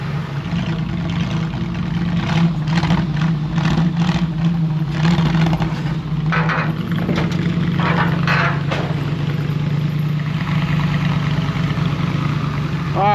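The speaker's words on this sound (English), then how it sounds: "I've got the world's highest idle right now." A 1955 Chevy Tri-Five engine holds a steady, loud high idle with a constant low drone, and a few brief mechanical clatters rise above it partway through.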